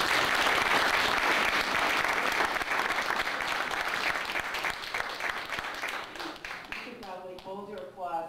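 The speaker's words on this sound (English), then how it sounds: "Hold your applause" An audience applauds after a poem recital, a dense and steady wash of clapping that slowly thins and fades before a voice starts speaking over the tail.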